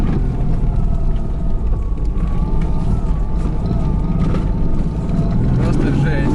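A car on studded tires labors uphill through a rut on a lake, its engine a loud, continuous low rumble and drone close by, with a brief dip midway.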